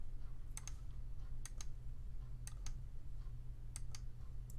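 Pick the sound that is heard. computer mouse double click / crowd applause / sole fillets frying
computer mouse double click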